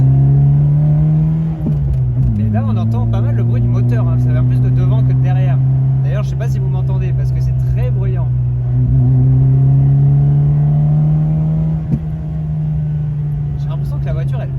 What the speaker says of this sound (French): là on entend pas mal le bruit du moteur